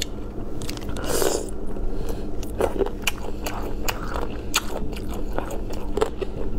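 Crunchy chewing and biting of spicy pickled bamboo shoot strips flavoured with lemon for sourness, close to the mic with steady, repeated wet crunches and no talking.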